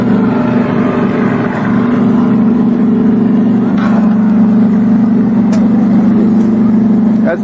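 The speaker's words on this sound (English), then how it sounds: "As the boats go up into Blackford's Bay to warm their engines up" Race boats warming their engines on a bay, giving a loud, steady, droning motor roar that holds level throughout with faint higher whines passing over it, and no one talking.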